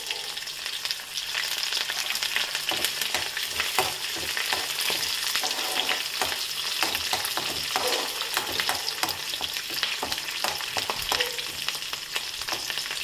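Green chillies and curry leaves frying in hot oil for a radish palya give a dense, continuous crackling sizzle, close and loud, with busy spattering throughout and no voices.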